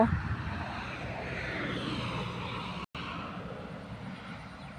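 A water pump engine drones steadily near a rice field as it pumps water in, a loud continuous rumble with one brief dropout, while people talk faintly beneath it.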